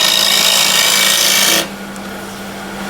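A scraper cuts into old window-sill wood spinning on a lathe, a loud, steady, close rasping roar that suddenly drops away midway, leaving a quieter motor hum.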